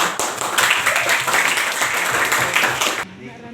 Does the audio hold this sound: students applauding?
yes